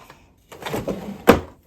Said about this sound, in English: It's messy, but it's all in the same drawer and I can close it.